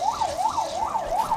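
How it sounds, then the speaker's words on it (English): An ambulance siren wailing in a steady rising-and-falling sweep, loud and close, repeating several cycles with faint road noise beneath. "There's an ambulance there."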